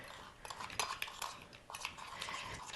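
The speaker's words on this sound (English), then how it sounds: "So I'm going to take the spoon." A metal spoon scrapes and clinks inside a container of homemade chile powder, producing a close, faint series of small scratches and taps with no talking.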